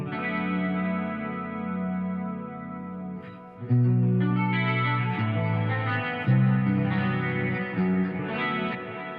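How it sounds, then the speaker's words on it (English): A lush, sustained synthesizer pad with layered chords shifting every few seconds, thickened by chorus and distortion effects, with no voices. "what I want is just to go to the pad sound"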